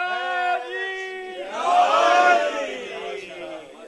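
A crowd at a Jashan-e-Wiladat religious gathering for Imam Muhammad Baqir raises a loud, swelling chant in unison, rising from a single voice into a massed roar of voices that echoes and fades.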